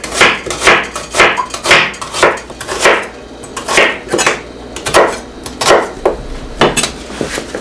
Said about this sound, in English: we cut the onion